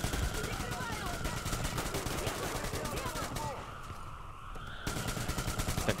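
Rapid gunfire bursts in the video game Metro Exodus, dense machine-gun-like rattling across most of the stretch, briefly dropping away before resuming, with muffled game noise underneath.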